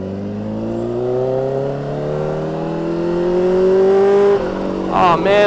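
Kawasaki Ninja H2R supercharged motorcycle engine pulling away at night, a loud steady drone climbing in pitch as it accelerates through gears, with a sharp shift and rising whine near the end.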